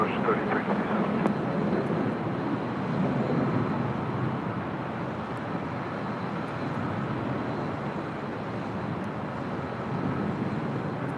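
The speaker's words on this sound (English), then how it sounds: "That was Delta Airlines Flight 1062 coming in from SFO, San Francisco" A Delta Airlines A320 arriving from San Francisco lands at LAX. A steady, broad jet roar holds for several seconds at moderate distance, with radio chatter underneath.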